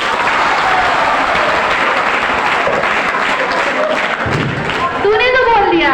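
An audience at a farewell event applauds loudly and continuously, dense clapping filling the hall, with a voice rising through it near the end.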